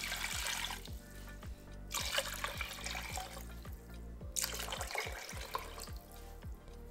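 Water pouring from a tap into a large soup pot holding parboiled pork ribs and trotters, a continuous splashing gush with small clinks and knocks, close and steady, no voices.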